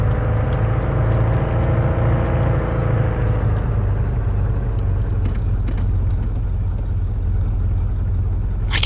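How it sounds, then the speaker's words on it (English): Steady low truck engine rumble in a horror video game set around a radio station, a continuous drone heard alone throughout with a faint high tone briefly above it. "Okay, no, I'm just hearing my truck."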